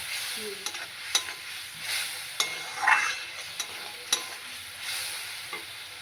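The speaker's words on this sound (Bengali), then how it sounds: "সর্ষে বাটা দেওয়া হয়েছে, দিয়ে এটাকে কষতে হবে।" Small fish curry masala with mustard paste being sautéed in a pan, a soft, steady sizzle broken by sharp spatula scrapes and clicks at irregular intervals, close and without talk.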